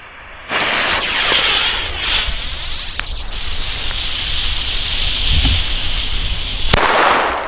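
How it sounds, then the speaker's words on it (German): Loud crackling firecrackers from a Weco Avalon family fireworks assortment burst in rapid succession outdoors, with sharp pops and a sizzling hiss over wind noise on the microphone, ending in a final crack. "Also diese Böller aus den Sets sind immer sehr, sehr gut."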